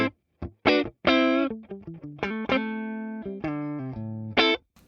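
Clean electric guitar notes and chords, played through an amp capture in a TONEX, ring out in short bursts with gaps between them, bright and close with a smooth, undistorted tone.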